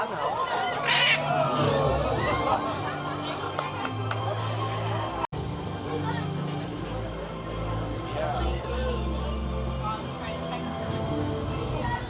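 Free-flying birds at Disney's Animal Kingdom, near the Tree of Life, give honking, goose-like calls as they prepare to take off, heard at moderate distance over steady park crowd chatter and people talking.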